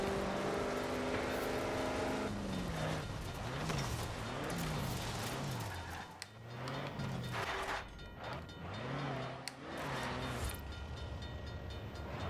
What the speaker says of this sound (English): This one, we have engine sound and exhaust,